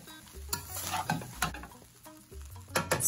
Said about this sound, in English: I'll stir everything together until it is well combined